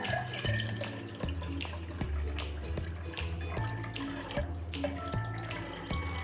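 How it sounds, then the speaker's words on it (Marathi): Water runs and splashes steadily into buttermilk in a container, a continuous pouring sound with a few small clinks along the way. "थोडंच पाणी मी ह्या ताकामध्ये घालते."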